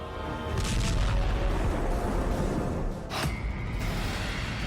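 A 155 mm M982 Excalibur artillery shell impacts with a deep, rumbling explosion, followed by a sustained low roar and a second sharp burst midway through, heard alone without talk.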